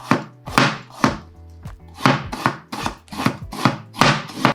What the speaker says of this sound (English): I'm going to cut this into thinner pieces